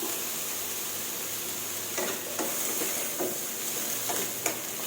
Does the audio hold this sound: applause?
no